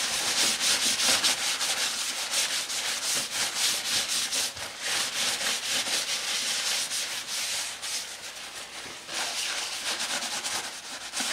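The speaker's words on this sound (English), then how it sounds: "Let me rub some oil on it." Oil being rubbed onto a handmade leather sheath with a cloth, a steady dense scrubbing hiss that continues close-up and alone with brief pauses around 4.5 and 9 seconds.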